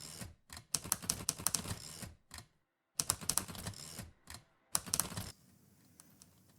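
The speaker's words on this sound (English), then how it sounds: "I created this typewriter window, right, that types out shit before levels start." Rapid typewriter-style key clacks in bursts, the typing effect from the video game Gunsblazing, close and crisp with short pauses between runs of keystrokes.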